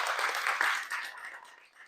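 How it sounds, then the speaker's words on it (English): An audience at a food bank enrichment program gives a short burst of brisk hand clapping, close and fairly soft, tapering off within two seconds. "Why did we clap for this?"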